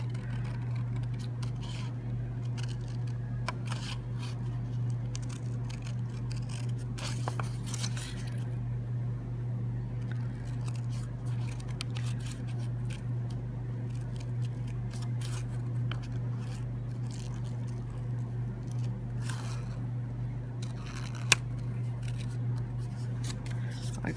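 Scissors snip through stamped paper pieces for paper piecing, with a series of short, quiet cuts over a steady low hum.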